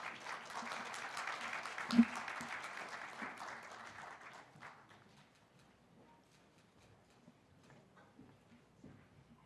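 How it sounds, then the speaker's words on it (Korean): Audience applause at the Seoul 50+ International Forum 2017 as panelists walk onto the stage: dense, fairly soft clapping for about four seconds, then thinning into scattered claps and quiet room noise. "큰 박수로 맞이해 주시기 바랍니다"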